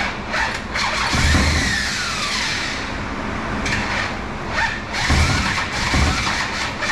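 The starter motor on a 1965 Shelby Cobra with a 454 big block cranks loudly and close, in bursts that whir and grind as it struggles on a weak battery, with short pauses between them.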